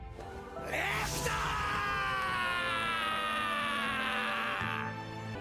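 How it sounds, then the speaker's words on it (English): Tanaka, an anime volleyball character, bellows a long, full-throated scream that swells after a brief lead-in and holds loud and strained for several seconds before cutting off over background music. "He screams at the top of his lungs"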